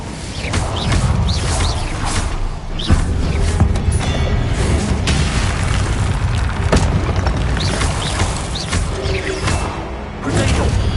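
Incendio fire spell blasts in a wizard video game, a series of heavy booms and whooshing bursts layered over continuous loud game noise, with a voice in the mix.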